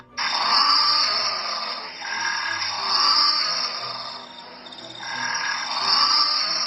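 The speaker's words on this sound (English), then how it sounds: "It's all fun and games until you find out what a penguin trying to pipe sounds like." Little blue penguin (fairy penguin) calling near homes, a loud harsh braying, rasping cry in repeated pulsing bursts with a strong buzzy quality, close and alone.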